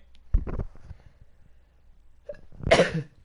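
A person who is sick sneezes and coughs in two short, sharp bursts about two seconds apart, close and loud with quiet between them.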